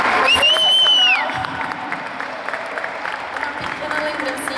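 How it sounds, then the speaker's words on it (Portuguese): An audience at a youth church congress claps and cheers for a priest, with a whistle-like whoop near the start. The broad, steady applause holds for several seconds, then eases slightly but continues. "Uma salva de palmas para o Padre Arnaldo"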